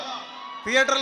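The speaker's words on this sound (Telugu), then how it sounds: "ఈ అరుపుల కోసం వెయిటింగ్, ఈ చప్పట్ల కోసం వెయిటింగ్." A loud crowd at a film pre-release event bursts into shouts and whoops after a sustained voice, the cheering swelling and peaking toward the end.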